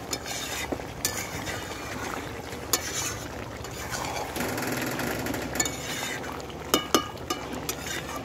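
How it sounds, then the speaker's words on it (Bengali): Mutton curry is stirred in a pot with a spoon, making irregular scrapes and knocks over a low background hum, close by and moderately quiet, with no voices. "নেড়ে নেব।"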